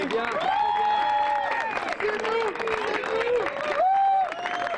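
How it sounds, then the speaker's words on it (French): An audience at the Trompe Goule world cup in Le Mans claps for competing teams, a steady patter of applause beneath loud, prominent voices calling out over it. "On peut les applaudir."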